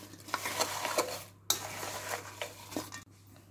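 Apple crumble filling of chopped apples, sugar and flour being stirred in a bowl: a close run of soft scraping and light clinks, steady with a couple of sharper knocks, and no talking.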